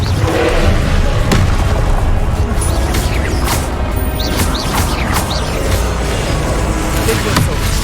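Confringo fire-blast spells in the Hogwarts Legacy video game land as heavy booming impacts and crashes, one after another over a dense, loud wash of battle noise with sharp whooshing accents.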